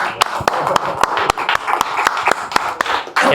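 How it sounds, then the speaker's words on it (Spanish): An audience at a talk applauding for a man named Nando, brief scattered clapping with distinct sharp claps rather than a full ovation. "Un aplauso para Nando, por favor."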